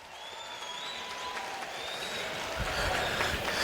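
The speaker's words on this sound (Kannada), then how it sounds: "ಈ ಟಾಪರ್ಸ್ಗೆ ನಿಮ್ಮ ಜೋರು ಚಪ್ಪಾಳೆ" An indoor audience applauds students honored as gold-medal toppers at a ceremony, with steady, dense clapping that swells and grows louder toward the end.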